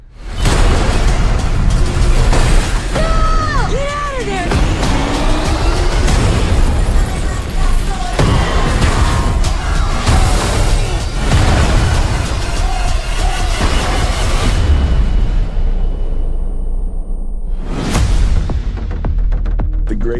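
Bomb blasts in an action movie trailer, dense booming impacts and rumbling bursts layered over a loud, continuous score and effects, with voices talking underneath and a sharp hit near the end.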